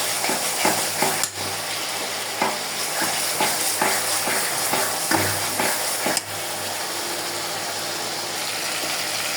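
Garlic paste frying with already-cooked onions in a pan, a steady loud sizzle with repeated scraping stir strokes and clinks of the spatula throughout.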